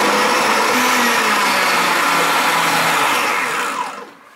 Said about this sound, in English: So I'll start my processor.